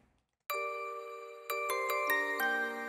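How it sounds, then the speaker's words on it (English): A music box plays a short note melody inside a hardstyle track, bright chiming tones struck one after another with ringing sustain, starting after a brief silence and building in loudness. "this music box that I used has a note melody over here"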